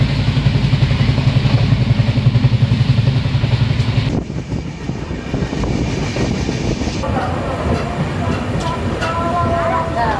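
Passenger train 15959 on the Kolkata to New Jalpaiguri run, arriving at Ambika Kalna station at night. A loud, steady rumble of rolling wagons fills the whole stretch and eases slightly partway through as the train slows, with no talk over it.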